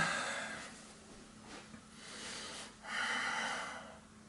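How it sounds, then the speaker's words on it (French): A soft, drawn-out exhalation during a yoga session, quiet and close, with a couple of gentle breaths swelling and fading. "Et j'expire."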